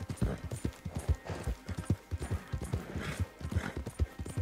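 Horse hooves clip-clop in Red Dead Redemption 2, a steady rhythmic trot of close, distinct thuds with faint background ambience and no speech.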